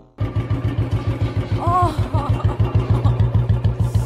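A motorcycle engine runs close by with a steady, even chugging beat, holding a regular idle-like rhythm throughout, while a voice briefly cuts in over it.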